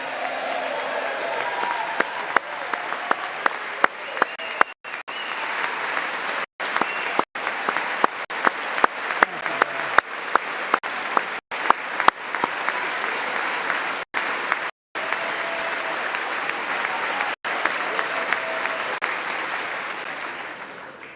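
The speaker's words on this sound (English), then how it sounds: "With the name Kennedy, you would have thought everybody over here would have been cheering" Sustained loud applause fills a Congress chamber during a presidential address to a joint session, a dense crowd clapping continuously with brief dropouts and no voices standing out.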